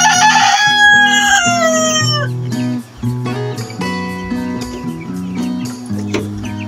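A rooster crows loudly up close at the start, then 45-day-old backyard chickens cluck and chatter repeatedly over a low, steady hum.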